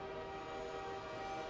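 A train sounds a sustained horn, heard as a steady, faint drawn-out tone over a low rumble, with no talking.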